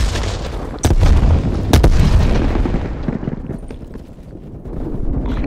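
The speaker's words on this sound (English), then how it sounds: "Throwing grenades." Grenade blasts in Call of Duty Black Ops Cold War team deathmatch: two loud booming explosions close together, followed by rumbling battlefield noise that fades and rises again.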